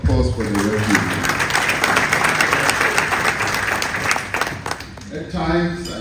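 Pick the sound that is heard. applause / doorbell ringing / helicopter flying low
applause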